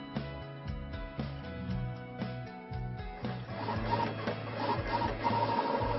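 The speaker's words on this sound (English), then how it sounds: "The GX24 will cut the graphic just as you designed it." A Roland GX24 vinyl cutter cuts a graphic, its stepper motors buzzing and whirring in stop-start bursts with repeated clicks, steady and close, without talk.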